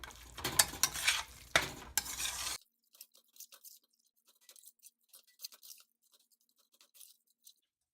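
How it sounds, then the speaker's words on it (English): Minced mutton keema being stirred with masala in a pan, a few seconds of dense scraping and mixing that then drops to sparse, faint clicks and light stirring touches. "Mix it well so that the masala will coat the keema."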